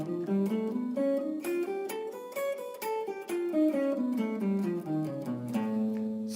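A guitar plays a whole tone scale in a blues lesson, single notes stepping steadily upward and then back down, clear and close with no talk.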